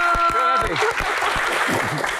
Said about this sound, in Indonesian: tepuk tangan buat Mas Dede Yusuf.